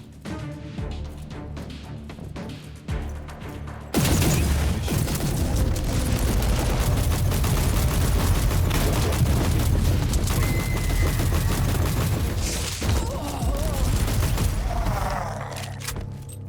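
Heavy turret gunfire and repeated explosions from Warhammer 40,000: Inquisitor Prophecy, with sustained loud bursts after a quieter opening, dense rolling booms and rattling fire continuing throughout.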